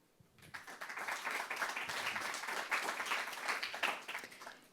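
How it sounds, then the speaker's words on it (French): A studio audience applauds steadily for nearly five seconds as a health journalist from a French television health magazine is introduced, a dense, fairly loud wash of clapping with no talk over it. "sous vos applaudissements"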